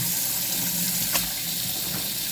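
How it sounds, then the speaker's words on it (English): Water from a tap runs steadily into a sink as chitterlings are rinsed clean, a close, continuous splashing hiss with no talk. "and rinse them until they're good and clean."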